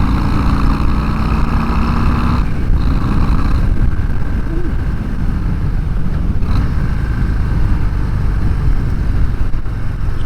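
A 2024 Harley-Davidson Breakout is pushed hard from about 2,500 RPM in fourth gear on a country road, its engine roaring loud and steady throughout, with a brief dip partway through.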